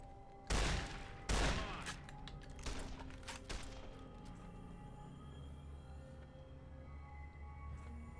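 Gunfire in Fallout: New Vegas opens with two heavy, close shots. A rapid scatter of fainter rounds and thuds follows, then a low rumbling game ambience that holds steady to the end.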